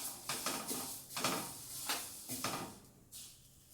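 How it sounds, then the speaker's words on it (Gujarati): Poha dry roasted with urad dal in a pan, rhythmic scraping and rustling strokes of a spoon stirring the dry grains against metal, repeating every half second or so, close and moderately quiet. "પૌવા પણ આની સાથે થોડી વાર ડ્રાય રોસ્ટ કરી લેશું."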